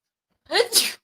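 A single sneeze indoors in a home kitchen while food is being prepared, close and fairly loud, a short breathy intake followed by a sharp burst and a hissing tail.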